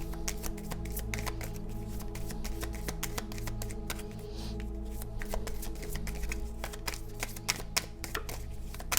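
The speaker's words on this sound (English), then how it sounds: "These are such little bit of cards, it's hard to shuffle them that way." Rapid, crisp shuffling of a small deck of cards close up, a steady stream of papery clicks and flutters lasting throughout with no talking.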